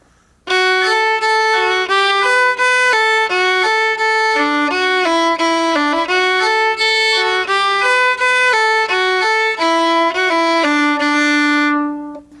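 A solo fiddle plays the second part of Sullivan's Polka, a lively run of clear, bright bowed notes in steady polka rhythm, close and loud, with no talking.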